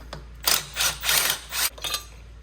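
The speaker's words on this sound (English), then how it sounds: "take off these 4mm Allen bolts" Two 4mm Allen bolts loosened on the rear brake of a DRZ400SM motorcycle: a few short, close metallic ratcheting and rasping bursts in quick succession, with no talk.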